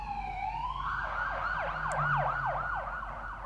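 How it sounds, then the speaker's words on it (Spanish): Ambulance siren in the video game OMORI: a loud wail that rises, then breaks into rapid repeated yelping sweeps, steady and close with no voices. "Se escucha una ambulancia."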